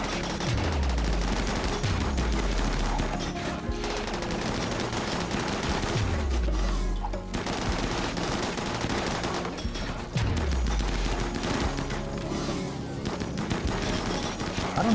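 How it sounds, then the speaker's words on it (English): Rapid, overlapping gunfire from the video game RimWorld crackles almost continuously through a busy battle, with repeated volleys and dense bursts, all loud and close. "I want you guys shooting the same ones."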